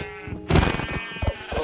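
Sheep bleating in the video game Minecraft, two or three short wavering bleats close by, fairly loud, with no talk during the calls.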